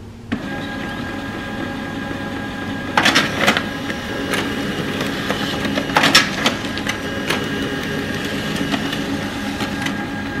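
An HP LaserJet M141w laser printer waking up hums and whirs steadily up close, with a few louder mechanical clunks and rattles as its parts start moving.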